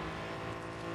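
A car engine in a video game hums and revs steadily, a continuous motor drone filling the short moment without any talking.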